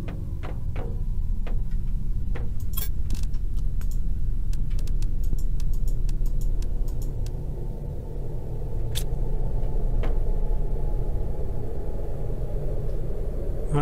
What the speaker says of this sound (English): Sounds like a storm coming our way.